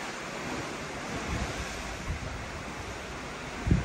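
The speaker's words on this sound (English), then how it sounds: "The seas are a little rough today as we head out of Roatan" Rough sea off Roatan, Honduras, with broad rolling surf and steady wind buffeting the microphone, the wash rising and falling continuously with a louder surge near the end; no voices.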